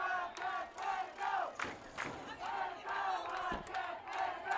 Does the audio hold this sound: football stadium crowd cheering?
yes